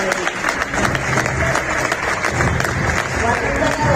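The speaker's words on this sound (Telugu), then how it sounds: "ఈ కొంచెం క్లాప్స్ కాదండి, మన ఐకేర్ గురించి చాలా క్లాప్స్ కావాలి" An audience breaks into loud, sustained applause, dense overlapping claps filling the whole stretch without pause.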